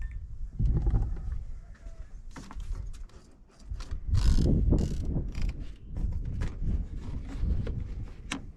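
Ratchet wrench loosening a bolt on a 2003 Chrysler Town and Country minivan during radiator work, giving close, busy bursts of ratcheting and clanking with heavier scraping and thumps.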